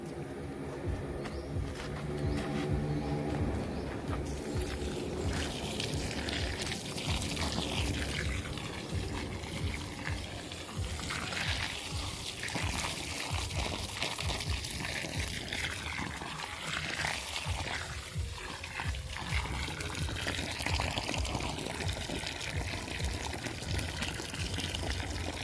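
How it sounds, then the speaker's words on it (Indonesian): Water poured into a planting hole for a banana plant after manure has gone in, a steady continuous splashing and gushing that runs the whole time without a break, heard up close with no talking. "kita masukkan air untuk menjaga kelembaban"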